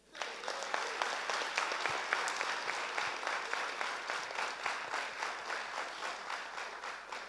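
Audience applause at a graduation ceremony, a big round for the graduates' parents: dense, steady clapping from a full crowd that fills the hall for several seconds before slowly thinning.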